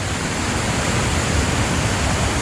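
A small unnamed waterfall on a waterway in Hebden Bridge, West Yorkshire, emptying toward the Rochdale Canal, roars as a steady, close, broadband rush of falling water with no voices.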